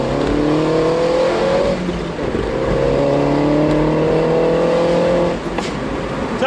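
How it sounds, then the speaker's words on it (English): A modified Mini with coilovers accelerates on tarmac, its raucous exhaust droning loud and close as the engine note climbs through two gear pulls with a brief dip between them. "if I can talk over the raucous exhaust"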